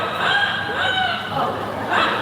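A person mimics a rooster's crow with their voice, a few rising and falling warbling calls repeated over a couple of seconds, close and fairly loud in a room.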